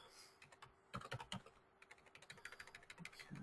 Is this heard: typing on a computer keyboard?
yes